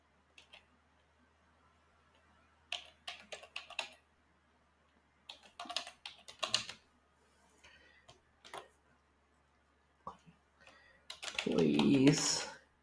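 Keys tapped on a computer keyboard while a password is typed at a PowerShell prompt, coming in short clusters of quiet clicks with pauses between them, ending in a louder burst.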